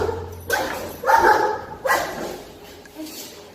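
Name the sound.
dog whining and high-pitched barking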